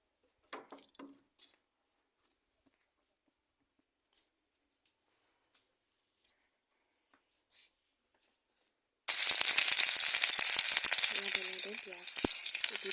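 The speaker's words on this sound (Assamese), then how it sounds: "পিঁয়াজখিনি দিছোঁ আৰু জলকীয়াকেইটা দি দিছোঁ" Onions and green chillies drop into hot oil in a kadai on a gas stove. After a long near-silent stretch with faint clatter, a loud, dense sizzle bursts in and fills the rest of the clip.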